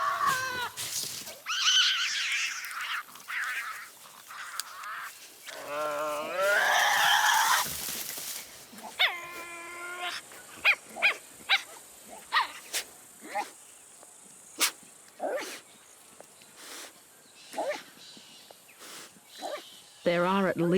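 Tasmanian devils vocalize around food with harsh growls, screeches and sharp barking calls, heard alongside scattered clicks and snaps. Loud bursts come early, then a run of short, spaced cries against a quiet background, with narration over part of it.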